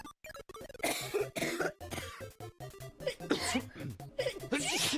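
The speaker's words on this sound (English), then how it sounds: "Why is it still coughing?" An infected character in a plague game coughing repeatedly, harsh bursts in quick irregular fits with short gaps between, loud and close.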